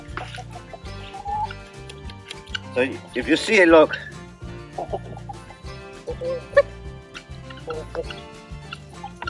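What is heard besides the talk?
chickens clucking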